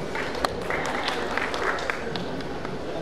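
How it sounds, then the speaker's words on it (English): An audience claps at a Kannada film event featuring Dhananjay, Praneetha Subhash and Shruti Haasan, a steady patter of hands with a few sharper claps, lasting the full three seconds with faint voices mixed in. "Clap for it"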